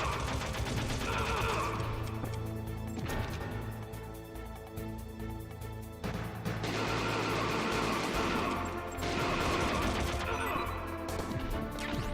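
Dense bursts of gunfire in the PlayStation game Metal Gear Solid, rapid repeated shots and crashing impacts filling the scene, loud and continuous with short lulls.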